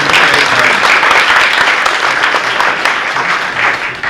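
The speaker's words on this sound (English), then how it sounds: "You may applaud Mr. Davis." A crowd at a governor candidates' forum gives a candidate loud, dense applause, many hands clapping steadily for several seconds.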